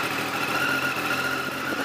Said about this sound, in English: So let's start the bike. So I'm going to show you that no issues. The bike starts well.